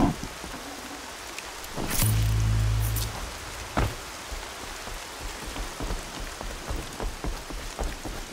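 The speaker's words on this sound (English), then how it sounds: "Rains" Rain falls in the Horizon Zero Dawn video game, a constant hiss of drops close around the listener. A low, heavy rumble swells for about a second, and scattered sharp taps and small impacts come through over the downpour.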